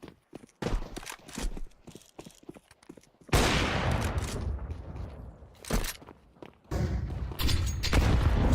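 A grenade detonates during a Counter-Strike match, a loud broadband blast after a stretch of scattered clicks and footsteps, followed by a lingering roar and more bursts of gunfire and impacts.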